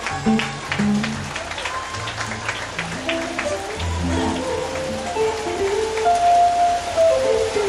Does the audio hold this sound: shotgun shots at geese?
no